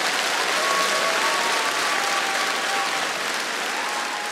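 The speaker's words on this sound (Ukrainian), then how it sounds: "Аплодуємо." Steady audience applause at a comedy improv show on stage, a dense wash of clapping hands sustained for several seconds at even loudness with no talk over it.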